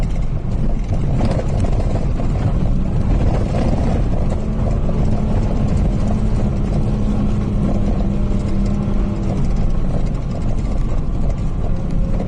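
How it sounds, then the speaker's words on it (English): An off-road vehicle in the San Juan mountains of Colorado rumbles in a loud, continuous low drone as its engine brakes on a descent, with mechanical rattles throughout and no talk. "Probably hear the engine braking."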